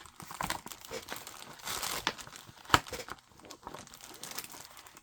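A hand rummages through a package of craft paper, making crinkling and rustling sheets in uneven bursts, with one sharp crisp crackle midway, close up and fairly quiet.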